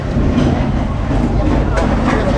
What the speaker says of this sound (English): see the train coming there